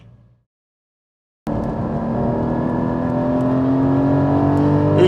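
A Porsche 718 Cayman GT4 engine on a race track, starting abruptly after a brief silence and holding a loud, steady drone that climbs gradually in pitch as the car accelerates.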